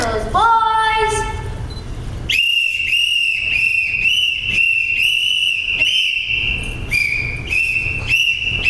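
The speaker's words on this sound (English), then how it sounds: "Sound your whistles, boys!" Several shrill whistles blow at once on stage during a live play, starting with a falling warble, then long piercing blasts pulsing in overlapping bursts, loud and close.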